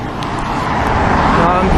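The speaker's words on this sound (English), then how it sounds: "There's a loud bike" Loud motorbike passing along a road, a rising engine roar that grows over a couple of seconds, close and prominent, with a person talking over it.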